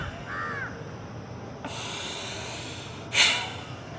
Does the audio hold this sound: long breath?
yes